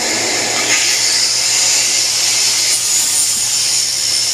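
A slip harpoon tip is ground to a bevel and round point, giving a loud, steady, unbroken grinding whine and hiss close up, with no speech.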